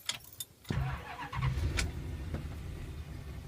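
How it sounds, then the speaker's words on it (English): A 1975 Travco motorhome's 440 V8 catches and settles into a fast, steady high idle, close and rumbling, after a few short clicks and a brief crank. "So the 440's up and running, runs really well."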